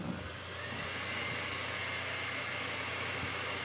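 A hair dryer blowing on freshly painted acrylic paintings, a loud, steady, close airy roar that starts up and runs without a break, with no talking over it.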